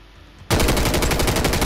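Sustained burst of automatic enemy gunfire in Call of Duty Warzone (MW3), cutting in abruptly after a quiet moment and staying loud and dense with rapid repeating shots to the end.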